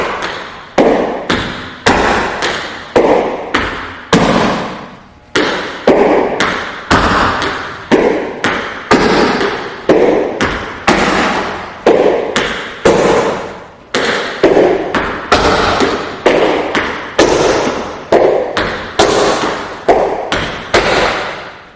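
Sharp tap shoe strikes on a hard floor during tap dance barrel turns, repeating in quick, steady rhythmic clusters with short gaps, loud and close.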